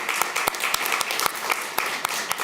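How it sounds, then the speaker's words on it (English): An audience claps as a woman is invited to the stage at a panel event on blasphemy and dissenting women. The applause is brief, close and steady, with sharp individual claps standing out. "give her a big applause"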